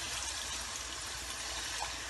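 Water is poured into minced keema cooking with bell peppers, making a steady, continuous rushing trickle with no pauses or voices throughout.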